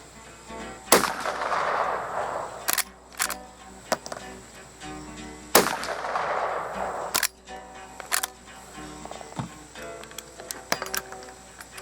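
Two loud, close gunshots from a Rossi R92 lever-action rifle in .45 Long Colt fired at a 50-yard target, each with a reverberant tail, separated by metallic clicks and clacks of the lever action being worked.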